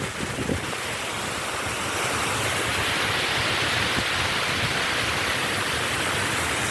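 Rushing water pours steadily at Cachoeira do Boi Morto, a waterfall in Ubajara, Ceará, as the rainy season begins, making a loud, continuous broadband roar with light wind buffeting and no voices.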